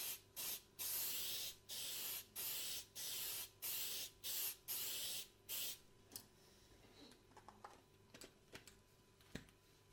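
Spray paint hisses from a can in a quick series of short bursts onto both surfaces of a shield prop, then stops, leaving a few scattered light taps and clicks.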